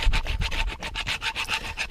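Hand file rasping back and forth over a welded metal part of an Ursus C-360 tractor, a steady series of about a dozen close, even strokes with no talking.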